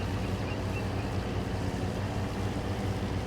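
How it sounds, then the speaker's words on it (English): A tractor pulls a mower across a field in the Farming Simulator 25 video game, a steady low engine drone with broadband rumble, continuous and fairly close, with no voices. "The tractor pulls this quite easy, to be fair."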